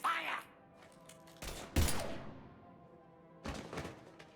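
Gunfire in the Mass Effect Legendary video game, with a few loud, dense bursts of shots separated by quieter stretches of low rumble.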